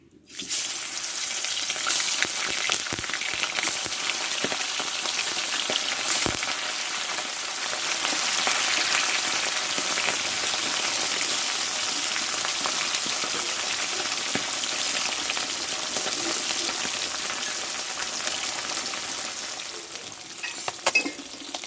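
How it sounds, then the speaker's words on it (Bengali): Pieces of bata fish rubbed with salt and turmeric frying in white oil, a loud, steady, rain-like sizzle that runs unbroken and close throughout, with a few faint clinks near the end. "মাছগুলো আমি ভেজে নেবো"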